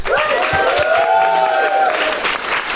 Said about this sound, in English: Let's have a round of applause for the horrific final act of Audition.